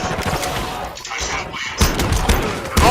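Gunfire from a shotgun in the shooter game Modern Warfare 2 comes as heavy, close blasts and booming thuds in quick succession, mixed with game noise.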